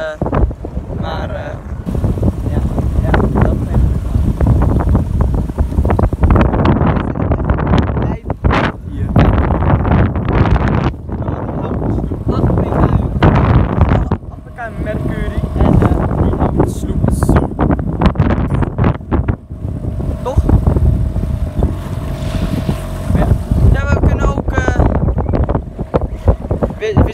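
Strong wind buffets loudly and continuously as a motorboat heads into the wind, with an engine drone underneath and people talking at times over the roar.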